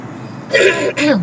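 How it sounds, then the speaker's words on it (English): A man clears his throat twice close to the microphone, two short rough rasps with a brief gap between them. "I've been clearing my throat so much in this video."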